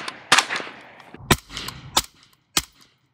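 Three suppressed gunshots from a PTR rifle fitted with a low back pressure suppressor, each a sharp, loud crack with a short decay, spaced evenly about two-thirds of a second apart, outdoors.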